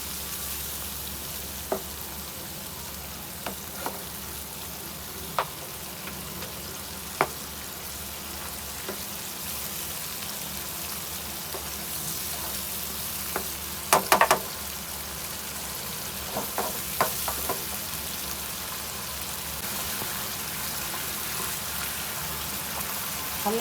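Chicken karahi with yogurt and spices fries in a pan, a steady sizzle running throughout with occasional sharper crackles and scrapes of stirring, loudest around the middle.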